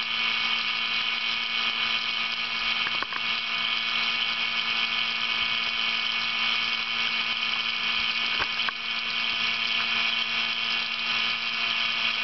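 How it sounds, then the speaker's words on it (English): A vacuum pump runs steadily in a high-voltage arc setup, giving a constant mechanical hum and whine at moderate level with no break, alone without voices. "There's a vacuum pump."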